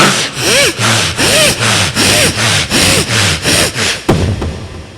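A voice mimics a saw cutting through a big trunk: eight or so rhythmic rasping strokes in steady back-and-forth, ending with a sharp knock.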